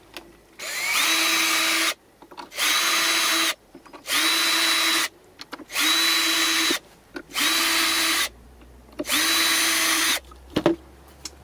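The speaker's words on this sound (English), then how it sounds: "We drill the holes." Power drill boring holes in old, warped pallet wood, heard as six loud, steady bursts of whirring, each about a second long with short pauses between, close up and with no talk.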